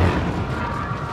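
Lascannon fire in the Dawn of War 2 video game, heard as a dense, loud, continuous wash of booming blasts and crashing impacts with no clear gaps between shots.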